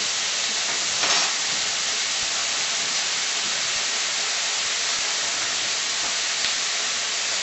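Pork chops sear in a hot pan for Indian-style pork chops, giving a loud, steady broadband sizzle that holds evenly throughout with no talking.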